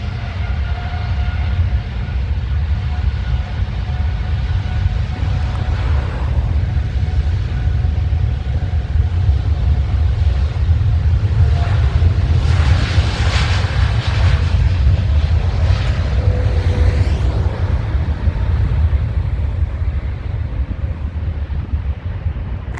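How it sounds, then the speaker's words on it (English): A Boeing Dreamliner takes off at London Heathrow, a deep continuous engine rumble and roar that holds steady and swells slightly midway, heard from a distance with no talk. "the Dreamliner that just took off"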